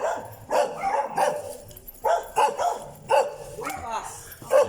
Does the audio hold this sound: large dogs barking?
yes